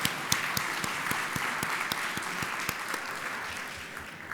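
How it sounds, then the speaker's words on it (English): At an immunization awards ceremony, a crowd gives a round of applause for supporters and award recipients: even, continuous clapping with a few sharp louder claps, heard in a large room and fading slightly toward the end. "Let's give one more round of applause for our supporters, our award recipients, and each of you."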